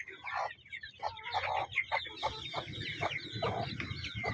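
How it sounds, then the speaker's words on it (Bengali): Local domestic hens and a rooster cluck repeatedly at close range in a yard, a steady run of short, lively calls with some background rustling. "এদিকটা আমার দেশি মুরগি, দেখুন দেশি মুরগি, চীনা হাঁস 2 পিস, এদিকে আমার 2 পিস দেশি মুরগি, মোরগ"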